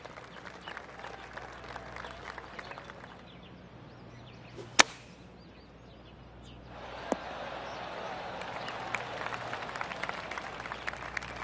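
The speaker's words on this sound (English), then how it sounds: "Oh, golf clap." Light golf-clap applause from a gallery in PGA Tour 2K23, a soft crackling patter of claps that rises partway through and continues steadily, heard after a sharp crack of a ball strike.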